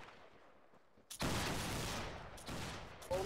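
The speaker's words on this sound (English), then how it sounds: "Make ready, take aim, fire." A line of soldiers fires a musket volley in the video game Battlegrounds 3, a sudden loud ragged burst of overlapping shots followed by a second ripple and scattered late reports, set against quiet background.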